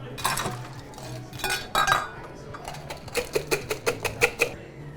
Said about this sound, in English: we're gonna muddle some basil, Mm-hmm. a little bit of ice